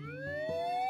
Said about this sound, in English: Didn't I tell you the ambulance would be here soon, Elfie?